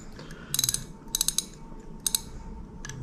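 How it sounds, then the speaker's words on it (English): A Daiwa 22 Exist LT 5000-CXH spinning reel being turned by hand with the drag clicker engaged, giving three short bursts of fast, crisp ratcheting clicks separated by quiet pauses, close up with no talking. "just spinning it right now and with the drag clicker, it sounds very good already"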